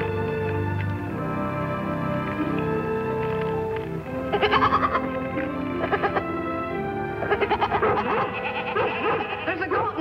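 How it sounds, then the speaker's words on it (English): A goat bleats in a series of wavering, quavering cries, fairly close and loud, repeating over several seconds against a steady background. "There's a goat in trouble."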